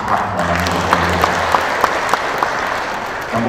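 Audience applause fills a hall at a regional PKS party meeting in West Java, a dense, sustained wash of clapping with a few louder individual claps standing out near the front.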